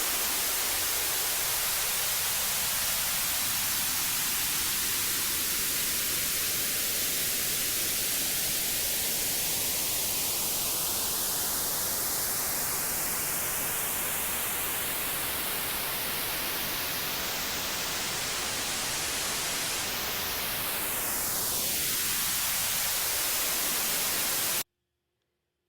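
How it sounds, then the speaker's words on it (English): A deep, narrow notch filter sweeps slowly upward through steady broadband hiss, then dives quickly back down. The noise plays alone at a constant level, and the moving notch gives it a hollow, phasing whoosh. "that moving notch filter like that's another thing we can call that is a notch filter, a very deep, narrow reduction."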